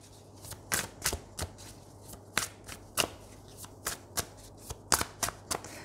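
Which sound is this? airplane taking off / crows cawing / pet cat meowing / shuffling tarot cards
shuffling tarot cards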